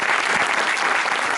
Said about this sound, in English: Round of applause, please, again, for Jay Willgoose.